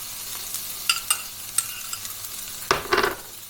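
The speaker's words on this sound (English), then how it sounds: "So I've got my pan heated up nicely and I'm going to add my chopped onion" Chopped onion dropped into a heated non-stick pan: a few light clicks, then a sudden close burst of crackling sizzle near the end.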